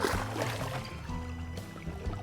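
A bonito released from a fishing boat splashes into the sea, with brief watery splashes and trickles over the steady low hum of the boat's engine.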